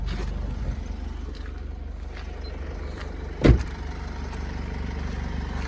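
A Honda CR-V 2.2 diesel with automatic gearbox idles quietly and steadily in a low hum, with one sharp click partway through.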